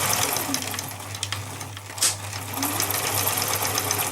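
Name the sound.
Husqvarna 19e sewing machine reverse stitching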